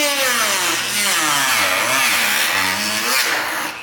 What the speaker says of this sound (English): We're cutting the radiator fan because you have to cut the corners right there.